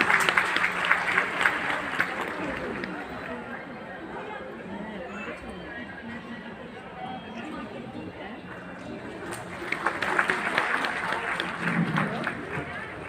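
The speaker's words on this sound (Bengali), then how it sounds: "আর একবার জোরে হাততালি" Audience applause at an annual dance school show in a hall, a broad wash of clapping that fades under crowd chatter, then swells again near the end.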